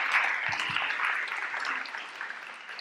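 Applause from an audience at a French talk event, a steady broadband patter of many hands clapping throughout, moderately loud and unbroken.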